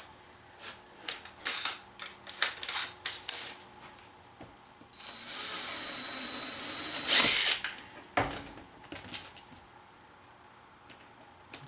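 A power drill whirs steadily for a couple of seconds while boring a hole, surrounded by sharp clicks, taps and handling noises from the tool and workpiece, close and fairly quiet.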